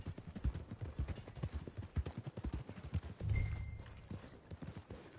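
Horse hooves clip-clopping at a steady walking rhythm in Red Dead Redemption 2, close and distinct with a brief snort or blow midway, as the rider heads toward the stables.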